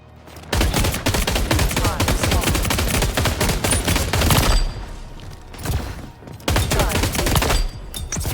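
A Hyperburst LMG fires in the video game Empulse with loud, rapid automatic bursts: one long sustained volley, a short pause, then a second volley before it cuts off.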